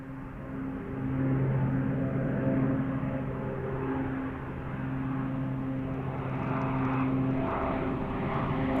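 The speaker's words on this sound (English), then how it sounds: "We also have the 777 lining up" A Boeing 777 airliner on the runway at Zurich airport, its engines giving a loud steady droning roar with a sustained low hum, heard from a distance and holding nearly level throughout, with no talking.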